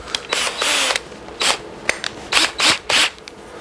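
Drill turning the oil pump of a 440 engine swapped into a 1970 Dodge Coronet 500 through a homemade Allen key welded to a long rod, heard as several short loud whirring bursts with pauses between.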